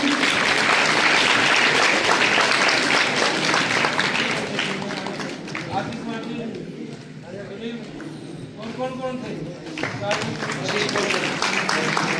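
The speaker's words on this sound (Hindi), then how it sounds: "ताली बजती रहनी चाहिए आपकी" An audience applauds at a competition event for young women, a dense sustained clapping that fades in the middle while a voice speaks over it, then swells again toward the end.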